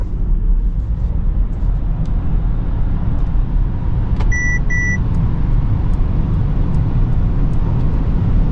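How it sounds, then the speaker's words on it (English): A Mercedes-Benz EQS 580 SUV on winter tires accelerates at full throttle on the Autobahn, giving a steady loud roar of road and wind noise inside the cabin, with a brief pair of chime tones partway through. "Pushing full throttle right now."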